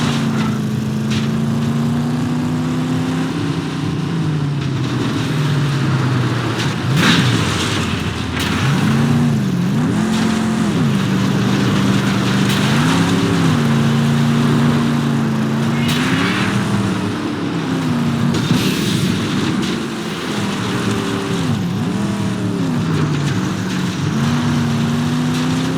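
A car engine in the post-apocalyptic game Mad Max drones steadily and loud while driving, its pitch rising and falling in repeated revs and gear shifts over rough terrain rumble throughout.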